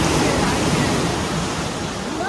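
Sea waves wash in at a coastal cave, a loud, close, steady rushing roar of surging water that fills the whole short stretch without a break.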